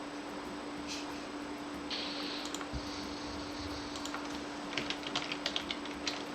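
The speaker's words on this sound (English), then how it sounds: "I'm typing it in for you right now." Typing on a computer keyboard during a session, with a steady background hum and a faint tone; soft scattered key clicks build into a brief, sharper flurry of taps near the end.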